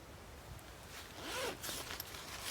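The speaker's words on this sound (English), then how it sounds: "And it's got a zip down here." A zipper on the lower compartment of a bushcraft kit pouch is pulled open in one steady, close run lasting about a second, with light fabric rustle before and after.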